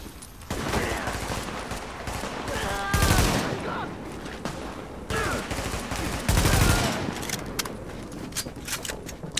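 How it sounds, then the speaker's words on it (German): Gunfire rattles in the video game The Division, with repeated bursts of rapid automatic shots and a few louder volleys, steady and close throughout. "ich tue einfach nur so und schieße in die Richtung"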